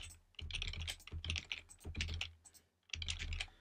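Fingers type on a computer keyboard in quick bursts of close, clicky keystrokes, pausing briefly between runs, with no voice over them.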